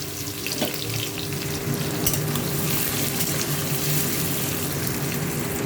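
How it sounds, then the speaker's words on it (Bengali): Onions sizzle and fry in a pan for a goat meat dish, with a steady, dense crackling hiss that continues evenly throughout, close and moderately loud, with no talking. "এখন আমি পেঁয়াজগুলো দিয়ে দেবো, ভালোভাবে ভাজতে পারবো।"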